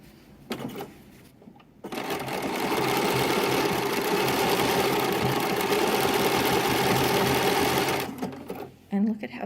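A sewing machine runs steadily for about six seconds, stitching a decorative pattern onto a double-sided baby blanket, a continuous close mechanical whir that starts and stops cleanly with brief handling noises around it.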